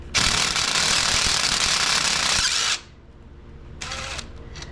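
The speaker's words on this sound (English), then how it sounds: "I'll switch to some powered machinery. Old Mr. DeWalt impact." A DeWalt impact wrench loosens bolts on the rear end of a Honda Recon 250 ATV. It hammers in one long, loud burst, then after a pause gives a shorter second burst, close up.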